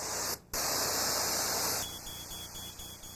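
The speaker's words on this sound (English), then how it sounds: "the fire department set off the alarm" A home smoke alarm, set off by the fire department, shrills continuously near a child's bedroom with a piercing steady tone; it cuts out briefly, then resumes as a pulsing beep under a hissy background.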